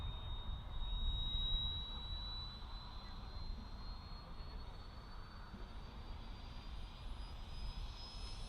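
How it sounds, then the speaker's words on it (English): Model jet aircraft, the Hampshire Aero Sport Team's Havoc, flying at a model airshow, heard as a steady distant turbine whine under broadband wind-like roar, loudest early on and holding fairly constant throughout. "here we go, some more jets, got the Havoc"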